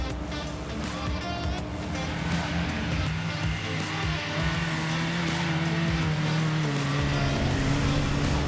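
A rock crawler's engine roars close and loud while driving in Oregon sand, revving hard with a rising, straining pitch that holds through most of the stretch, no talk over it.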